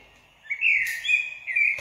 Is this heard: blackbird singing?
yes